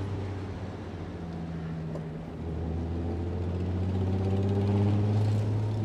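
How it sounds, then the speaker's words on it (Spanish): A Volkswagen Cabriolet MK1 fitted with an R32 engine idles, its muffler putting out a steady low droning hum with a deep throbbing note that swells slightly partway through and continues evenly. "te das cuenta que lo único que se oye es el mofle"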